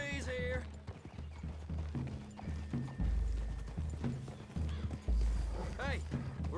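Horses' hooves clip-clop in a rhythmic run in Red Dead Redemption 2, with a horse whinnying briefly and game voices talking over the hoofbeats.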